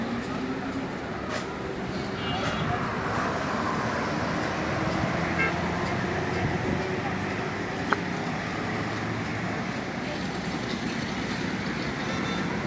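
Traffic on a wide 360-foot highway gives a continuous loud roar of passing vehicles, with occasional horn toots and a single sharp click. A voice is faintly present beneath the steady noise.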